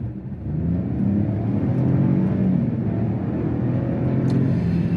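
Buick Envista Avenir engine revving steadily, a loud droning rumble and whir heard from inside the car, rising slightly and holding for several seconds with no talk.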